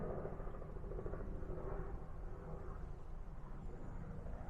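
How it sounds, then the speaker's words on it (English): A distant small helicopter drones steadily in the background, a low continuous rumble with faint rhythmic thudding, alongside some soft outdoor ambience. "What you can hear in the background is a small helicopter."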